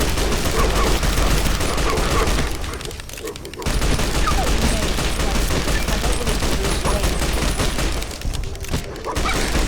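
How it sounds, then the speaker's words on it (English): Dense, continuous gunfire in Fallout mod Tale of Two Wastelands, booming impacts, a loud barrage of overlapping shots that briefly thins before resuming, with some voices faintly underneath. "can't hear you over the deafening sound of gunfire"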